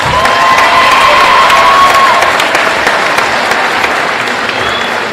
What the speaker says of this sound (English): I want to ask for a big round of applause for the student athletes